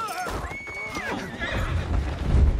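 A horse in the video game Assassin's Creed Syndicate whinnies in a high, wavering cry, followed by low rumbling and a few hoof-like thuds, with a person talking over it.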